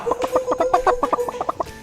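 A chicken clucks in a quick run of about a dozen short, rhythmic pulses, close and fairly loud, with no talking over it.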